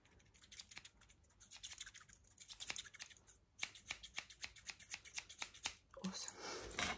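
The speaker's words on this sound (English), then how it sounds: "Okay, just cutting the hair out the face." Scissors snipping hair close to the face in an ASMR personal attention session, with repeated crisp, close cuts in an irregular rhythm, and a softly talking voice in places.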